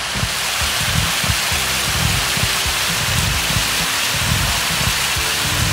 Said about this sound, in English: We got this waterfall here behind me.